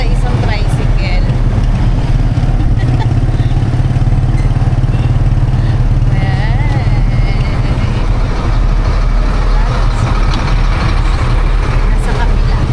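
A motor tricycle on Boracay rattles and drones with a steady low engine rumble and road clatter, while voices talk faintly over the ride.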